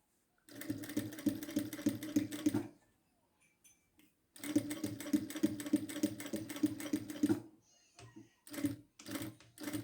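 Sewing machine stitches cotton bias tape in rapid rhythmic bursts, a long run, a pause, another long run, then several short stop-start spurts, close and clear with no voices.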